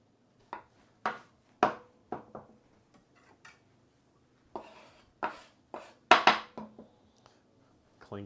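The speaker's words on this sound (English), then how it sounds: "Cut up some onions as well." A knife chops onions on a cutting board in a home kitchen: a series of distinct, sharp chopping strikes in irregular bursts, close and clear, with short pauses between groups of cuts and no talking.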